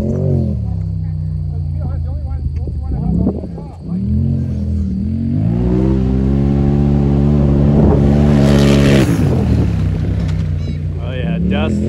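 A Yamaha YZF450 dirt bike doing a burnout outdoors in dusty ground, its engine revving loudly and close in rising, falling pitch sweeps, briefly dropping before a sustained high rev with spattering grit, while people talk over it.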